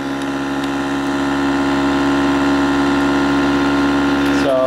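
A bucking field reluctance motor runs steadily at about 1000 RPM, giving a close, constant humming whine with a low steady drone, alone until a brief click at the end.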